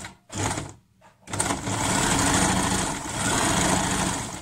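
Sewing machine stitching thin fabric for an off-shoulder blouse, a few short starts, then a steady close whirring run of fast stitches.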